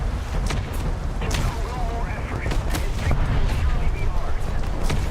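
Naval gunfire in War Thunder naval battles, repeated booming shots and bursts over a steady engine and sea rumble, with someone talking over the action throughout.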